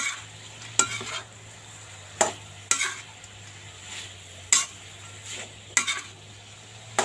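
Pork stir-fried in a pan for a Thai dish, a soft low sizzle under several sharp, close scrapes and clanks of a spatula against the pan at irregular intervals.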